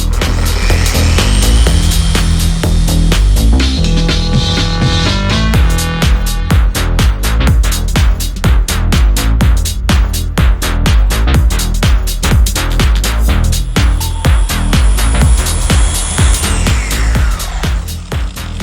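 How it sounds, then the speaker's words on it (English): A polishing machine runs continuously at speed setting 6, working ceramic coating into a car's paint, its steady loud whir overlaid with dense rhythmic ticking and whining tones that rise and fall. "We're gonna put our machine down. We're gonna bump it up to speed setting 6"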